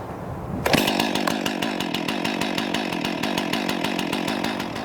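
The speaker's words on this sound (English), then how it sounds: "and then we can start the saw." A chainsaw roars to life after a brief quiet moment, then runs at a steady, loud, buzzing idle close by.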